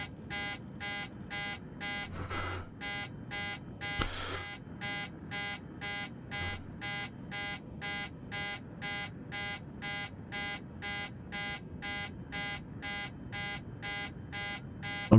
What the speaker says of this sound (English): Why are you still beeping at me?